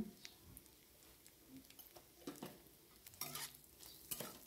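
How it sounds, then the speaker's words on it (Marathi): A spoon stirs salt into paneer bhurji in a pan, making soft, irregular scraping strokes over a faint sizzle at low volume. "अशा प्रकारे सर्व मिक्स करून घ्यायचं आहे मीठ।"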